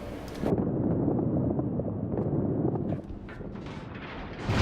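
Naval gunfire in the World of Warships game booms out as a heavy, sustained rumbling barrage of cannon shots over the sea, loud and close, followed by quieter crackling blasts, with no voices.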